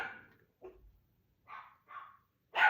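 Small pet dogs barking in a home during a jewelry-making session, giving several short separate barks and yips spread across a few seconds, moderately close, with quiet pauses between them.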